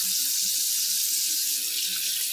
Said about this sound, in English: First thing you want to do is turn your water on.